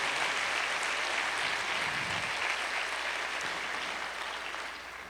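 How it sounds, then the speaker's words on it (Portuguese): A church seminar audience applauds steadily throughout, with a dense, even clapping that tapers slightly at the end. "Você pode dar uma salva de palmas ao Senhor Jesus por isso"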